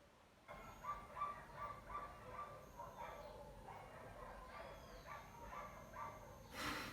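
Several dogs bark and yip in a quick, uneven series of short calls at moderate distance, fairly quiet against steady background noise, with a sharper burst at the very end.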